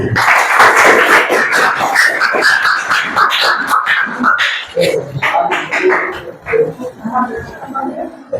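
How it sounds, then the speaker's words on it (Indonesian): Classmates clap in a classroom, a dense burst of applause at the start that thins into scattered claps, mixed with children's chatter and talk throughout. "Silakan, tepuk tangan buat temannya."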